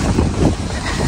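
Cold wind in Nuuk, Greenland buffets the microphone with loud, rumbling gusts that swell and ease over a little over a second.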